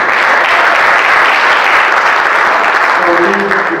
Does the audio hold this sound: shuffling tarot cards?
no